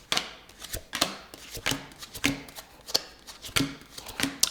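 Tarot cards being shuffled and handled: quiet, close riffling and slapping bursts arriving in an irregular rhythm, with soft papery flicks between them and nothing else over them.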